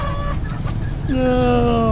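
Chickens and ducks at a Thai-style poultry market stall during a Hmong New Year festival, clucking and crowing close by over busy crowd noise, with a long drawn call near the end.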